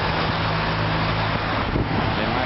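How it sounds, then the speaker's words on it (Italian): Support cars of a cycling race caravan pass on the road near Sant'Olcese during the Giro dell'Appennino, heard as a steady rush of engine and tyre noise mixed with wind buffeting the microphone. "le macchine della carovana"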